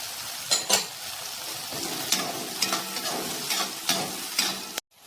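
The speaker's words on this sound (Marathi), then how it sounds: "मी टोमॅटो घालते आता" Chopped tomatoes go into a sizzling tempering for upma, with steady frying crackle and repeated scraping stir strokes of a spoon against the pan, ending abruptly.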